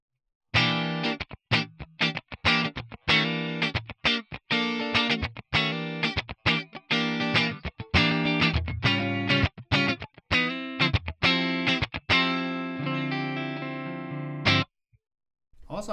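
Electric guitar played on its neck pickup through a ToneX ONE amp model, with a run of distorted, chopped chords and short stabs, ending on a sustained chord that rings out, loud and close with no talk.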